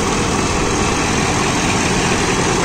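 John Deere 5405 CRDI 63 HP tractor running with PTO engaged in creeper gear for banana mulching, a loud, steady diesel drone that stays constant and close throughout.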